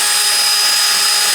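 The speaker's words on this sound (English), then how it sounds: "we got to drill this one out a little bit more because of the square piece on the headlight bracket" A power drill whines steadily and loudly while enlarging a hole in a carbon fiber fender on a 2022 Honda Civic, one continuous high-pitched run with no talking.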